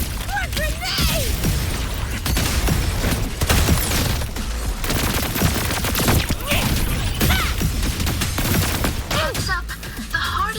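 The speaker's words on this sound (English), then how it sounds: "Time to cook with fire! More grenades!" Rapid bursts of gunfire and heavy explosions from thrown grenades in the video game Wuthering Waves, loud and continuous, with a player's excited voice shouting over the combat.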